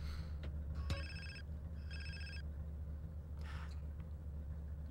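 A cell phone rings in GTA San Andreas with two short bursts of a bright electronic ringtone, over a steady low rumble of game ambience.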